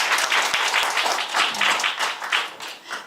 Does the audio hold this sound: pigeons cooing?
no